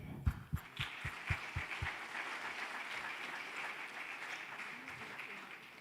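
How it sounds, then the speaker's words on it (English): A faint, distant audience applauds to welcome guests at a Sathya Sai Baba 100th birthday celebration, opening with a few separate thumps before settling into steady, even clapping. "Let us all extend a warm and enthusiastic round of applause to welcome them."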